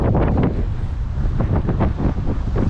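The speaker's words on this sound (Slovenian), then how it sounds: "Valovi prihajajo se strani malo bolj v bok, gremo bolj z vetrom" Waves slap against the hull of a sailboat heeling in strengthening wind off Cyprus, with repeated splashy surges under steady loud wind buffeting on the microphone, no voices.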